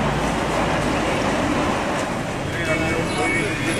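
A Mumbai commuter train rumbles past at close range with a steady, loud rushing roar and faint rail clatter, with voices talking underneath.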